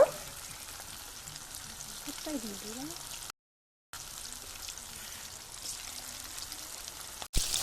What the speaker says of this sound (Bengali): এইভাবে একে একে করে পকোড়াগুলোকে সব ভেজে নেব